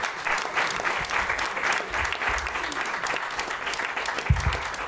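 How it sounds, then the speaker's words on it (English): An audience gives Robert a sustained round of applause at a storytelling event. Dense, steady clapping from many hands holds at an even level throughout, with no gaps. "Let's give Robert another big round of applause."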